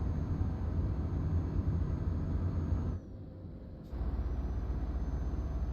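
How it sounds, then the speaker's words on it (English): Renault truck engine in Euro Truck Simulator 2, a steady loud diesel drone that cuts out abruptly for about a second, then resumes at the same level. "I do like the sound of the Renault."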